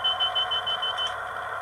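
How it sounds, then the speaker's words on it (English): A model train DCC sound decoder plays a driver's cab buzzer, a steady electronic tone lasting the whole short moment, fairly loud and alone. "And page 3, we have driver buzzer,"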